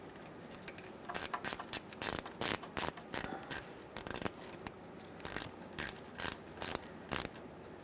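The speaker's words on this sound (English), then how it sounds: "This is still a 13mm in size, so we'll have to tighten it up." Ratchet wrench clicking in short repeated bursts while snugging a 13mm starter nut on a 2003-2009 Dodge Ram 2500 with a 5.7L V8, close and fairly quiet, no talking.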